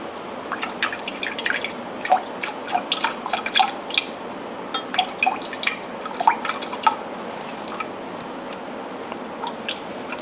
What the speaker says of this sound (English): Then we need to add another 1/4 cup of milk.